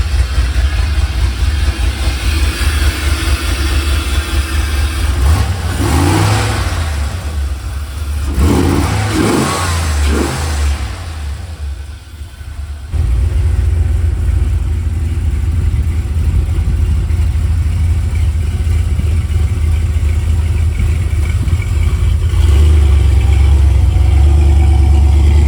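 An RW1 buggy's engine revs up as it drives off, rising and falling throttle bursts over a loud running motor, then settling into a steady rumble as it pulls away.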